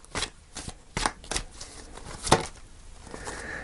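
Tarot cards shuffled to pull another card: a run of soft, papery snaps and riffles, close and moderately loud, with a sharper slap near the end and no talking.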